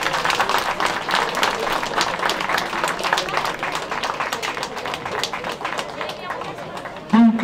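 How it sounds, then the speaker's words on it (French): A crowd applauding at a Japan versus Czech Republic match, dense sustained clapping with chatter mixed in and a voice talking over it. "Allez, encore un tonnerre d'applaudissements,"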